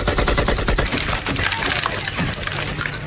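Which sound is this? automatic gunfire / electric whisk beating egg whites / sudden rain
automatic gunfire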